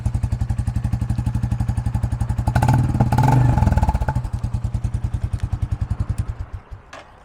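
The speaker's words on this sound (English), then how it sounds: "Let me give you a couple little revs so you can hear this exhaust." A 2023 Royal Enfield Classic 350 single-cylinder motorcycle idles with a loud, even thumping exhaust, is revved briefly once, then settles back to its steady chugging beat.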